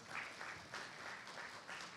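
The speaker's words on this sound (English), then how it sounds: "clap her back to her seat" Audience at a Black arts showcase applauds a performer, a steady wash of many hands clapping that swells in small waves throughout, with no voices over it.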